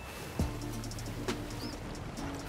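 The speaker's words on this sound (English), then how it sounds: "Why do you want my bird, Tonic?" A pet bird in the Sea of Thieves video game coos softly and steadily over a background hum, with a couple of light knocks and faint chirps.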